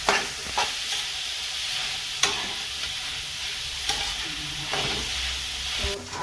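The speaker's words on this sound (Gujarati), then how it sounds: "આ ખમણેલા ગાજરને આપણે ઘીમાં આ રીતે શેકવાનું છે" Grated carrots roast in ghee in a pan, giving a continuous sizzle punctuated by sharp scraping clicks of a spatula every second or so, close and moderately loud.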